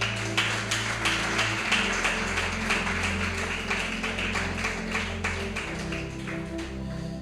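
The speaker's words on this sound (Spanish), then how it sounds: "Dele un aplauso al Señor" A church congregation claps together in praise during a sermon, a steady stream of sharp, fairly even hand claps over a low sustained musical drone, moderately quiet and continuous.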